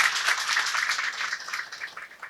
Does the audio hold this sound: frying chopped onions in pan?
no